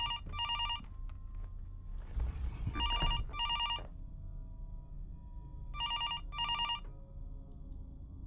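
Telephone bell rings in repeated double bursts inside the Norwood Hitchhike video game, three separate ring pairs with pauses between, over a low ambient hum and a brief rustle of movement.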